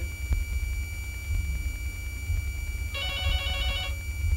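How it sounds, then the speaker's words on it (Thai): A telephone rings in one short electronic trill burst, clear and moderately loud over a constant low hum and faint background noise, with no voices. "นั่นโอ้โทรศัพท์มาแล้วเฮ้ย"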